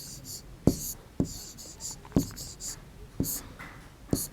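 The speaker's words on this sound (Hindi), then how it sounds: "तो हम यहाँ लिख देंगे विजय" A marker or chalk writes a name on a classroom board in a few quick, distinct strokes, sharp tapping scratches spaced about half a second apart and heard up close and alone, with no talking over them.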